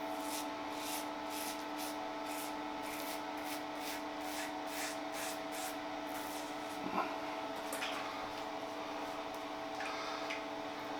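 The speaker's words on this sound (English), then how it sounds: "Is executive shaving with Market Outlaws, a 2-pass razor" A bronze open-comb safety razor is drawn across the face in a two-pass shave, making faint, rhythmic scraping strokes in quick succession over a steady background hum, close and quiet with no talking.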